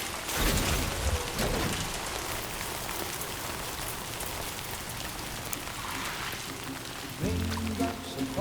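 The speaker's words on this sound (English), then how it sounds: "Raindrops are falling on my head" Steady rain falling in the video game Death Stranding 2, a constant hiss of drops on surfaces, with a few brief heavier patters and a short tonal game sound near the end.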